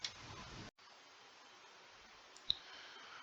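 One sharp computer mouse click sounds in a quiet room over a low, steady hiss.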